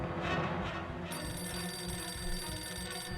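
A telephone rings in the Nancy Drew: The Final Scene video game, a steady electronic trill with bright sustained tones beginning about a third of the way in and continuing to the end over a low background rumble.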